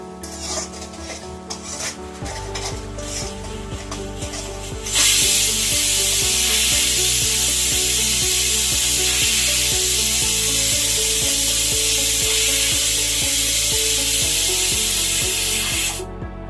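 A spoon scrapes and stirs pav bhaji masala mixture in a hot pan, rhythmic rasping strokes over a strong continuous sizzle that swells partway through, close and loud with no speech.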